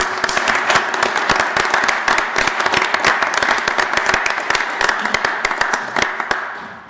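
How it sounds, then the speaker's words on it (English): Applause from a city council meeting audience in Williamsport fills the room, a dense, steady patter of many hands clapping close by that carries on for several seconds before easing off. "If we could give them a round of applause for their help."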